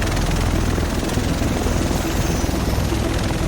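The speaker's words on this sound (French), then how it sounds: "Le reste de l'équipe devrait être dans cet hélico." Helicopter in The Division video game, a constant dense rotor chop with whooshing blade noise, loud and close throughout with no talking.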